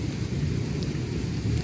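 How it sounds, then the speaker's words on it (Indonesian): Late-afternoon rain begins to fall at an outdoor fishing spot, a soft steady patter over a deep, continuous rumble of thunder, with no voices. "dan hujan pun mulai turun"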